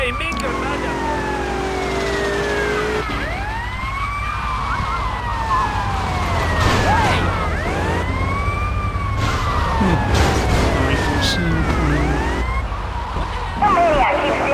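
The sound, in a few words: ambulance siren in a video game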